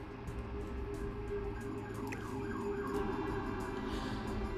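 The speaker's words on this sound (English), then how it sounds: "Sometimes when I hear the ambulance" In The Sims 4, a distant ambulance siren wails faintly, thin and steady against a constant low background hum, with no voices over it.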